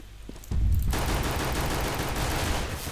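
A flashbang and grenade go off in the video game CS GO, a loud burst of gunfire-like explosive noise erupting after a brief quiet start and sustaining with crackling energy to the end.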